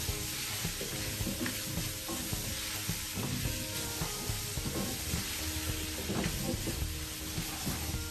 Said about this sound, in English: As your bacon cooks down a little bit, and it will